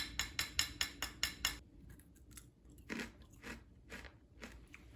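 Loud, close crunching of coconut granola: a quick run of about seven sharp bites, then slower, softer chewing crunches with short pauses.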